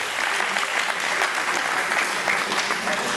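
Crowd applause for Emilien Bontemps, winner of a mountain bike race: a dense, even roar of many hands clapping outdoors, sustained at a constant level throughout.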